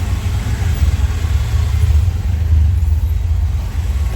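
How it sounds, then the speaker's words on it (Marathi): Busy road traffic with car engines, a loud continuous low rumble of motors close by, steady throughout without speech. "ट्रॅफिक बघ किती आहे बघ"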